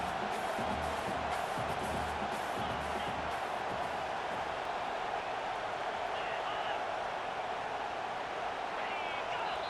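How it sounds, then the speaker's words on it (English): Roaring stadium crowd in a college football video game, Georgia Tech at Michigan, a dense, steady wall of loud cheering and noise pushing for a fourth-down stop, with no break for the whole stretch. "This crowd busting the decibel meter and trying to will a 4th down stop."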